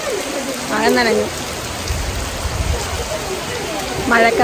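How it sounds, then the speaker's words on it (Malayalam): Steady rain falls while people walk outdoors during the monsoon, a constant close hiss of drops on surfaces with a brief rumble mid-way and a voice speaking at the start and end. "നമ്മൾ മഴയത്താണ് നടക്കുന്നത് കേട്ടോ."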